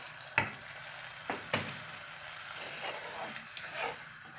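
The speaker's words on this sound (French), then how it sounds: "Voilà, ça mijote bien." A pot of sauce for coconut beans simmers at a steady bubbling hiss, with a few sharp knocks and clinks from a utensil near the start.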